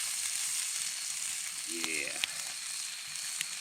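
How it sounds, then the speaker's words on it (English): A T-bone steak sizzles steadily over an open wood fire, a constant crackling hiss with a few sharp pops and a brief voice murmuring near the middle. "I love that sizzle"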